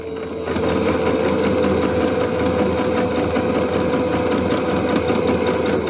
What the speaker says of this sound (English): Let's sew through this.